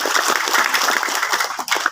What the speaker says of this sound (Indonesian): Jadi tepuk tangan untuk Bapak Mama.